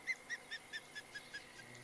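Bird in a Florida Everglades fishing game gives a faint, rapid series of about eight evenly spaced laughing call notes that slowly fade.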